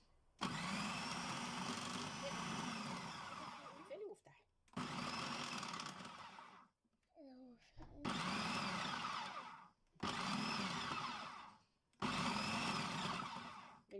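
A food processor grinds the spice mix for homemade basterma in five loud whirring bursts of a few seconds each, close up, with brief pauses between them and no talk.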